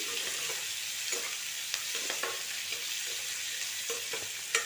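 Green chilies and peas deep fry in hot oil for a paneer curry, giving a steady close sizzle with light stirring taps and no talking.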